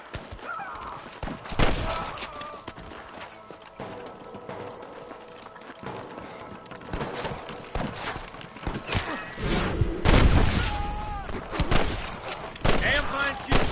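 A western shootout in Red Dead Redemption, with repeated close gunshots and scattered volleys mixed with horse hooves and a whinny, the firing growing denser toward the end.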